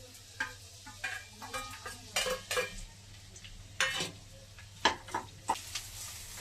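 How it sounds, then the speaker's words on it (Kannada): Onions fry in a pan for paneer vegetable fried rice, a moderate sizzle with repeated clattering scrapes of a spatula against the pan and a low steady hum underneath. Nobody talks. "ಈರುಳ್ಳಿನ ಫ್ರೈ ಮಾಡ್ಕೋಬೇಕು ಸ್ವಲ್ಪ"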